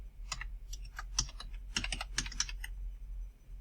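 Fingers type on a computer keyboard while entering cell text in an Excel spreadsheet, with bursts of quick, close key clicks and short pauses, without any talking.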